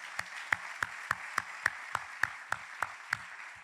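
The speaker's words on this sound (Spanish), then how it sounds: "Dale un fuerte aplauso al Señor." Slow, evenly spaced claps, about a dozen single sharp hits at a steady beat, fairly close over a faint room hiss, sounding like one or a few people clapping in a church congregation rather than full applause.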